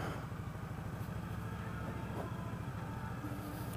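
A 2015 Indian Scout motorcycle with a Stage 1 package running on the move, a steady, even engine drone throughout with no voices.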